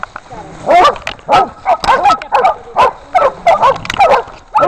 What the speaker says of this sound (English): It's a big dog, honey.